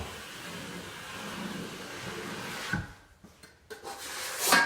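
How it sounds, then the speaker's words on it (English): A drywall knife scrapes and rubs across joint compound while feathering the top edge of a second coat, a close, soft, rasping drag with a few sharper scrapes near the end. "you just put all the pressure on the top of the knife and clean out the top feather"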